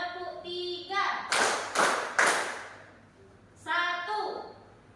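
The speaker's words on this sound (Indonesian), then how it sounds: "Tepuk satu, tepuk dua, tepuk tiga" Three loud, sharp group claps from a teachers' coaching session's counted clap routine, spaced about half a second apart, set between stretches of a voice leading the count.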